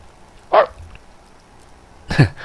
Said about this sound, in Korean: 어디서 강아지 소리가 났는데